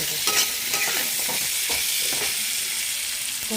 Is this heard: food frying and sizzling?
yes